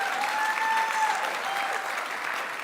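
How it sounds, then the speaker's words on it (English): Convention crowd applauding Bernie Sanders at an Arab American gathering, a steady wash of clapping that holds at a fairly even level throughout with no break. "a huge applause line for Bernie Sanders"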